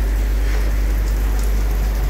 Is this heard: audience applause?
no